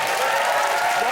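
Studio audience at a comedy quiz show clapping, a dense steady wash of applause heard briefly and close.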